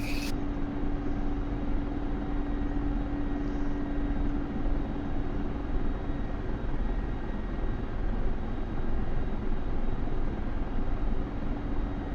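A Mi-24P helicopter taxiing in the combat flight simulator DCS gives off a steady, loud turbine drone with a constant hum, unbroken and unchanging from start to finish, with no talk over it.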